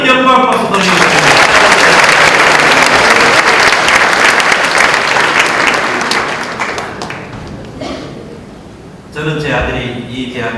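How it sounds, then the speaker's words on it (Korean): A church congregation at a Korean world missionary conference gives loud, sustained applause that gradually fades, then briefly picks up again at the end. "모두 다 하나님께 영광 박수 드리겠습니다"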